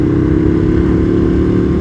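An Aprilia RSV Mille R motorcycle engine drones loud and steady under acceleration, a close continuous rumbling roar with wind buffeting and no voices.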